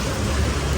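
Steady rain falls on a city street during a quiet holiday weekend, a dense, even hiss that fills the whole moment with no breaks.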